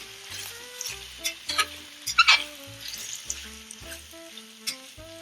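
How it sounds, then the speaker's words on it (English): Beef pieces for an Indian spiced stew sear in a pan, a sizzling crackle broken by a few sharp spatula scrapes and stirring knocks, close and moderately loud, with no talk. "we are going to start by just searing all of this"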